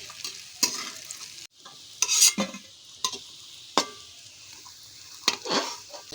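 Dhoka lentil cakes fry in oil with a steady low sizzle, broken by several sharp scraping clatters of a spatula stirring and turning them in the pan, close and alone with no talk.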